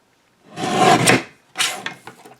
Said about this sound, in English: I'm going to go ahead and put it in my trimmer, and I will trim a little bit off that side